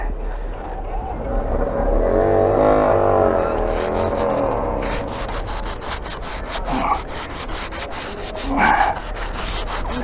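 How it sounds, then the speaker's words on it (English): Sandpaper rubs back and forth on a wooden sailboat boom, a rasping, rhythmic scrape close up, with a steady stroking pattern continuing over several seconds amid outdoor background noise. "Do a little more sanding on it."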